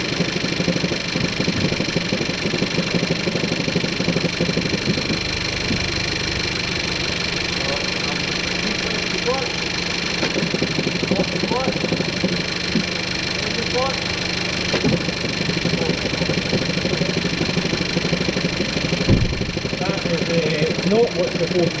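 A SEAT Leon FR engine idles steadily with a worn clutch release bearing adding a faint whirring and rattling note, a constant mechanical drone heard up close while someone talks over it.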